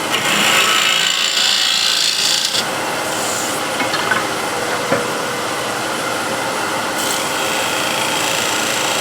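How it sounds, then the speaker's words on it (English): A shear scraper takes high spots off a piece of wood with continuous close scraping and rasping, a heavier rough stretch early and then lighter steady strokes with a few sharper clicks. "I'll get the best sort of control using a shear scraper. Just take off the high spots"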